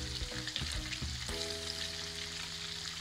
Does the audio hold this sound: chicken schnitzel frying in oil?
yes